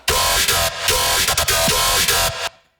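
A punchy synth bass phrase of short, rhythmic notes with bright, gritty overtones, stopping abruptly near the end with a quick fade.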